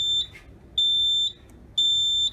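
A fire alarm system under test gives three loud, piercing electronic tone bursts, each sustained for about half a second with short silent gaps between them.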